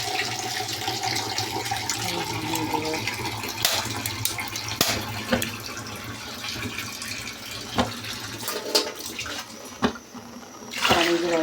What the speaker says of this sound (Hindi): इसमें डाल लेंगे पानी